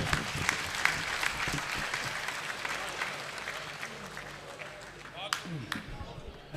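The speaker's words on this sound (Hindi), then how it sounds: "मेरे साथ अपनी तालियों की गूंज शामिल कीजिए" An audience at a mushaira breaks into sustained applause, dense clapping that is loud at first and then tapers slowly, with a few scattered claps and a voice near the end.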